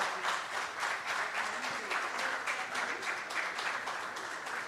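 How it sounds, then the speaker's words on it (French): An audience applauds as a guest is invited onto the podium at a national champions ceremony, a steady, fairly distant wash of clapping with a faint voice underneath. "Sous vos applaudissements."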